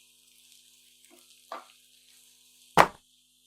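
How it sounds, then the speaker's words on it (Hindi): Mushrooms and onions in a frying pan give a thin, high hiss over near silence, with two brief bursts of louder sizzle and a sharp clatter as ingredients go in. "अभी इसके अंदर मैं मशरूम्स ऐड कर दूंगी। 1 मिनट के लिए इनको भी फ्राई कर लेते हैं।"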